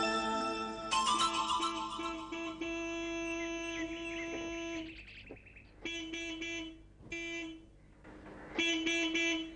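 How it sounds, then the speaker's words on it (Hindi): A car horn blares repeatedly: one long sustained honk followed by several short, insistent toots with brief gaps between them. "ये बार बार हॉर्न क्यों बजा रहे हैं आप?"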